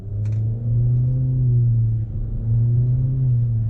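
A 2023 Nissan Altima SR VC-Turbo engine in manual mode drones steadily from inside the cabin, its low hum dipping and rising as the transmission shifts gears, with a brief faint click near the start.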